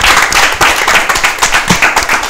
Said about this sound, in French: On applaudit pour M. Somda.